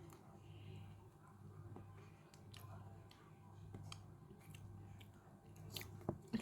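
A small bite of plain butter is chewed close to the microphone: soft, quiet mouth sounds and wet smacks in irregular rhythm over a low hum, with a few sharper clicks near the end.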